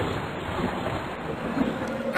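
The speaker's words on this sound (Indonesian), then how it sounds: "Lalu turunlah hujan tersebut sampai ke bumi." Rain falling, heard as a steady broadband hiss that stays even and fairly loud with no pauses, rough like wind or surf.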